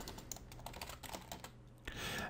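Code being typed on a computer keyboard: quiet, close, rapid key clicks in an uneven rhythm, without talk over the tapping.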